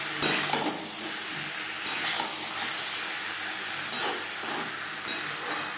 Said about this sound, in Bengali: পরিমাণ মতো হলুদের গুঁড়ো, লবণ, হলুদ, বেগুন, আলু ও মশলার সাথে বেশ ভালো করে মিক্স করে দেবো